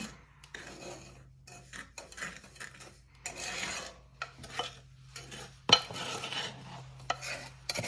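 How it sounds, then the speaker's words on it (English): Cornstarch and sugar stirred together dry in a saucepan for strawberry pie filling, close soft scraping and gritty rubbing strokes in uneven bursts, with a single sharper clink. "So the cornstarch and the sugar gets mixed together in the saucepan."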